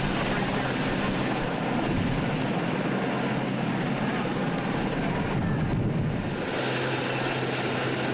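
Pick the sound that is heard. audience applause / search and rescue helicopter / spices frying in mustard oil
search and rescue helicopter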